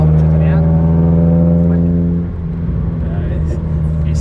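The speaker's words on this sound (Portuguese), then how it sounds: "Dá um acelero pra dar pipoco." A Mitsubishi Lancer with a manual gearbox and a not-yet-stainless exhaust holds a loud, droning rev with a strong humming note, then drops back to a rougher, burbling idle partway through, close up.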